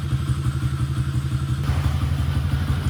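A Honda XR50 motorcycle engine runs close by, an even, throbbing idle with a steady chugging pulse that turns busier and rougher partway through as it is revved.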